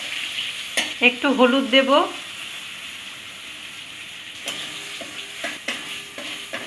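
Whole white cumin, chopped tomato, hing and dried chilli fry in oil while being stirred, a soft sizzle with occasional spoon scrapes. Someone speaks briefly near the start.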